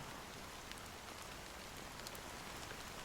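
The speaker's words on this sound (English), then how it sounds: "how long has this rain been going on for?" Steady rain pours in the Honkai: Star Rail video game, a dense even hiss of falling water with faint scattered drops, continuous and fairly quiet with no talking.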